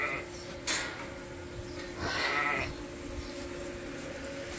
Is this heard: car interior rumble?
no